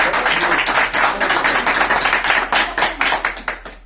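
A church congregation applauding loudly, steady dense rhythmic clapping from many hands that carries on for nearly four seconds without talk.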